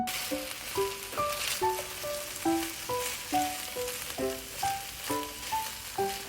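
Browned chicken frying with ginger, onion and garlic in an oil-free pan, a soft steady sizzle running under a melodic music track with plucked notes, no voices.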